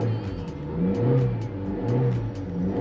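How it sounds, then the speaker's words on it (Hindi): A Maruti Suzuki Swift Dzire VXi CNG car engine, a 2024 model, starts and idles with a steady mid-pitched hum and slight rising revs, loud and close, with no talk. "अब गाइस अपन कार स्टार्ट करते हैं, आप इंजन का साउंड सुनना।"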